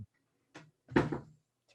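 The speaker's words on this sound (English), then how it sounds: "my cat is trying to open a cabinet. If you can hear that banging sound" A cat bangs a cabinet door while trying to open it, giving a few sharp wooden knocks and rattles, one louder thud in the middle, heard faintly in a quiet room.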